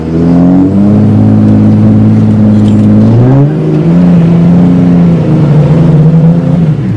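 A truck engine roars at steady high revs during a burnout, its pitch climbing briefly midway before settling into a sustained, strained drone.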